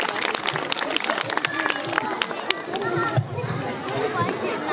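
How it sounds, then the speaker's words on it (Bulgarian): An audience claps at a kindergarten pumpkin festival, a steady ripple of applause mixed with crowd chatter, while a presenter speaks over it. "Силни аплодисменти!"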